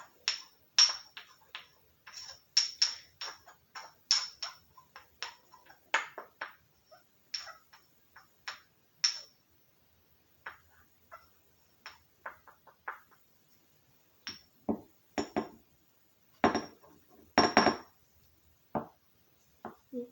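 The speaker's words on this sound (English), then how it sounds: "I'm going to mix that together in a circular motion and crush that all together" Powder being mixed and crushed in a circular motion, giving a steady run of sharp, close scraping ticks and taps, denser at first, then sparser with a louder cluster of strokes near the end, with no talk.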